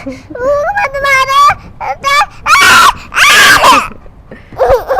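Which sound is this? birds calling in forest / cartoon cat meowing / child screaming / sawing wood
child screaming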